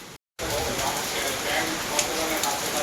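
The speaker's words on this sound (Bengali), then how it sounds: "বিশাল বৃষ্টি পড়ছে বিশাল জোরে বৃষ্টি পড়ছে" Heavy rain pours steadily in a dense, continuous hiss after a brief silent gap at the start.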